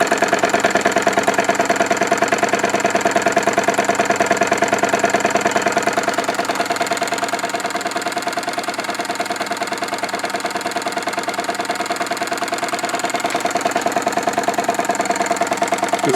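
A Wilesco D-18 mini steam engine runs on live steam with a steady, fast mechanical chugging and hiss that holds an even rhythm throughout, loud and close.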